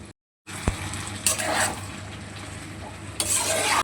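Country chicken is slowly stir-fried in a pan, a continuous sizzle that starts after a brief silence and is marked by bursts of spatula scraping against the metal.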